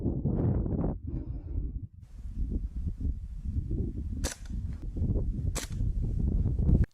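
A Springfield Armory M1 Carbine BB gun fired rapidly outdoors in a magazine dump, a quick run of sharp cracking shots over wind noise, with two louder snapping shots standing out later.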